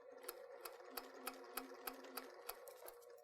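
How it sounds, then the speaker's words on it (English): A sewing machine stitching quilt appliqué, running in a steady quick rhythm of evenly spaced needle clicks over a soft motor hum, fairly close and without talk. "So I'm going to sew up to that area"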